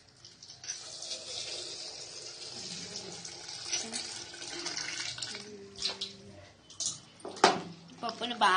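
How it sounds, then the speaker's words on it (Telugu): Tap water running into a bowl while lentils are rinsed by hand, a soft continuous splash with occasional clinks and sloshing, and a person speaking quietly over it. "మనం పప్పును నీట్గా కడగాలండి."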